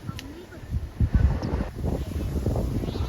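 Strong wind rumbles and buffets the microphone outdoors while a kite is flown, a close low roar with gust bursts, with brief voices mixed in.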